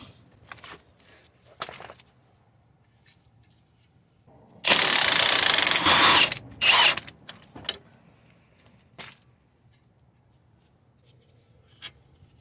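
A ratchet wrench works the 19 mm suspension bolts on a 2003–2008 Toyota Corolla Matrix while the shocks and stabilizer bar are being serviced, giving a loud dense burst of rapid clicking near the middle with scattered faint clicks and knocks around it.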